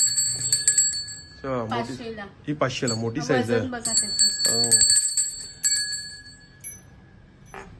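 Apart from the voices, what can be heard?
copper or brass bell being rung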